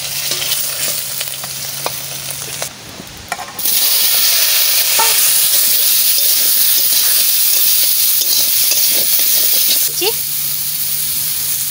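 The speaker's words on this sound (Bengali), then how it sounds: "মাছ ভাজা হয়ে গেছে দেখো" Fish frying in a pan for a home-style fish curry: a loud, steady sizzle that fills the whole stretch, with a short quieter dip early on and light stirring clatter over the hiss.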